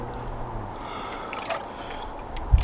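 A person dunks into an ice bath, a close splash and watery sloshing followed by dripping and a sharp breath, brief and fairly quiet.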